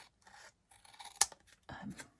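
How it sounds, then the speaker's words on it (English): Tim Holtz scissors snip through paper in a few quick, close cuts, with crisp rasping blade strokes and a sharp click in the middle. "Tim Holtz scissors. These are quite good scissors"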